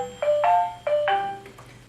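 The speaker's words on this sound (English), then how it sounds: "Of course my phone goes off as soon as that dings." In a home kitchen, a phone ringtone plays right as an oven finishes: a short melody of bright, chiming electronic notes, close and clear, with a faint steady hum underneath.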